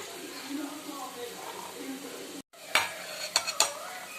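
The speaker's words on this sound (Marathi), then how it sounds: "आपला कांदा पण शिजतोय मस्त पैकी तेलामध्ये" Sliced onion cooking in oil in a pan, a soft continuous sizzle with a brief dropout, then a few sharp scrapes and clinks of a utensil stirring against the pan, close by.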